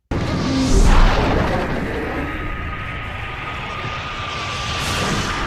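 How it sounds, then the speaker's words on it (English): Rocket launch roar in a Battlestar Galactica space scene, a loud rushing engine blast that swells in the first second, then holds as a sustained airy rumble with a faint steady whine, ending in a brief rising swoosh. "Although it is very dramatic, I do have to say the way the rocket goes off."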